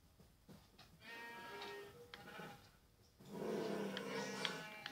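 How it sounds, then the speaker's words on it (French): Sheep bleat in a sheep meadow in a survival video game, with several wavering cries over game background noise, the loudest and fullest toward the end; no talking. "c'est la prairie à moutons"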